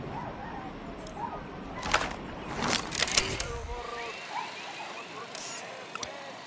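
An alarm wails in a Ghost Recon tactical shooter game, a siren-like tone sounding under game noise, with a sharp burst of gunfire-like bangs near the middle.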